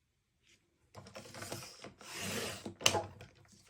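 A paper trimmer blade sliding along its rail and slicing through a sheet of paper, a close scraping rub of about two seconds ending in a sharp snip, with no talk.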